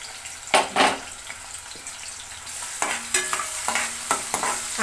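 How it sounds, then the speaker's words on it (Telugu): Onions sizzle in hot oil for a chicken curry gravy while a spoon stirs and scrapes the pan in intermittent clinks over a steady frying hiss. "ఇంకా జస్ట్ కొంచెం సేపు నూనెలో మగ్గించుకుంటే చాలు"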